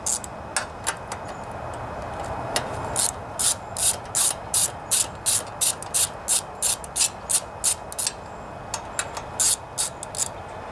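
A hand ratchet with a 10mm socket works on removing the carburetor of a Briggs and Stratton Intek engine, giving a close, steady series of crisp clicking bursts in an even back-and-forth rhythm.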